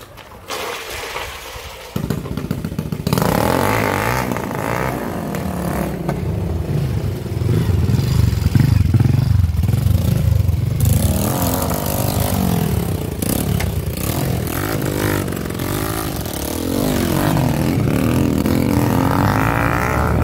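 A motorcycle engine sputters briefly, then catches and runs steadily after its wet spark plug is dried, loud and close at a beach, with rough revving and clattering for most of the clip.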